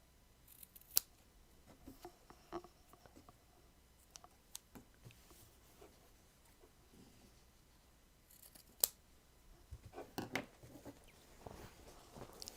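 Scissors snipping and trimming the edges of canvas fabric, a string of quiet, crisp cuts with soft clicks spread unevenly across the span, a sharper snip near the start, another midway and a denser cluster toward the end.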